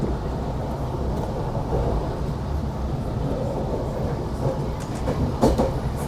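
Steady rumble and rattle of an Indonesian panoramic train rolling along rails from Bandung to Yogyakarta, heard from inside, continuous and close, with faint clicks and knocks toward the end; no talking.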